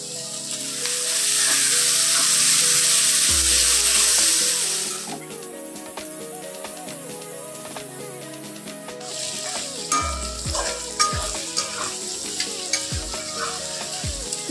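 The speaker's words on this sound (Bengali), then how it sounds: "গাজর বিটগুলো ভাজা হয়ে গেছে," Chopped carrot and beetroot frying in a pan with asafoetida, a loud steady sizzle at first, then quieter hissing broken by repeated scraping stirs and clinks of a spoon close by.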